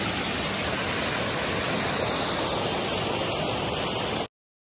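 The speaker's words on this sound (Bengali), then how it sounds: "যে ঝর্ণার জলটা" A waterfall in hilly Belpahari pours in a steady, dense rushing roar, close and unbroken for about four seconds before it cuts off abruptly into silence.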